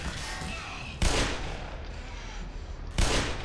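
Gunfire in the video game Black Mesa: a steady crackle of shots with two louder, sharp blasts about two seconds apart, fairly loud throughout.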